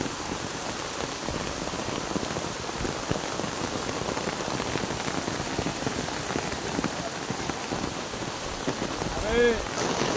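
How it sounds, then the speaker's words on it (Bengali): Heavy rain pours down steadily during flooding in Nangalkot, Cumilla, a loud, dense, unbroken wash of drops on surfaces close by. "দেখেন বৃষ্টি, প্রচুর বৃষ্টি হচ্ছে, আবার শুরু হয়েছে বৃষ্টি"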